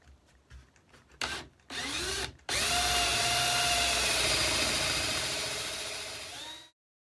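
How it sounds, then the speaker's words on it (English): A power drill bores a hole halfway through a board of wood laid on scrap wood, with a few short starts followed by one long, loud sustained drilling run that winds down and stops. "I'm going to drill about halfway down and then drill about halfway on the other side to finish it."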